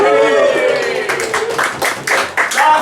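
An audience at a stand-up comedy show in a Bournemouth pub claps in scattered bursts that build toward the end, with a performer's voice speaking over the start.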